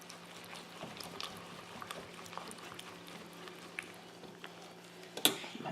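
A spreader stirs a thick rebatch soap mixture, producing soft wet squelches, gloopy pops and light scraping in an irregular rhythm, close and fairly quiet, ending with a sharper knock.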